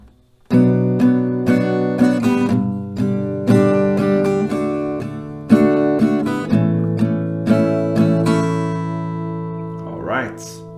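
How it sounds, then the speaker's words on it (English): Acoustic guitar strummed through a chord progression, one sharp strum on each chord letting ring, steady and close, ending with a brief scrape. "you're gonna play 1 strumming around per chord. So with this chord progression, it will sound."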